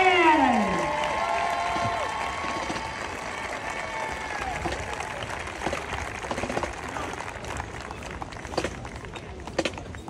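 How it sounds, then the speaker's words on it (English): Applause and crowd noise for a high school marching band at an outdoor show, a broad wash of clapping and cheering that follows fading band notes and carries on at a steady, moderate level. "Let's give a round of applause to the Brandon Blackhawk Marching Band!"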